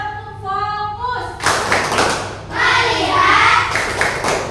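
A classroom group does rhythmic clapping chants during an Indonesian teaching session, with voices chanting in unison followed by loud bursts of patterned hand claps from many people.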